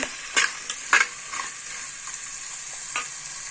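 Onions with salt fry in a pan and are stirred: a steady sizzle with a few quick scraping strokes of a spoon, near and clear, with no voices.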